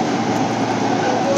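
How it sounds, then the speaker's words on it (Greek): Steady rumbling interior of a moving metro train in Athens, a broad continuous roar with a faint tonal whine near the end, no talking. "Βλόγκ μέσα στο τρένο, μετρό."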